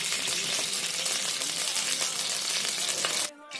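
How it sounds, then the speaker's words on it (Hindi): Mustard oil sizzling in a hot kadai, a dense, loud, steady hiss and crackle that cuts off abruptly near the end, with no talk. "कढ़ाई गर्म हो चुका है तो हम इसमें डालते हैं थोड़ा सरसों तेल"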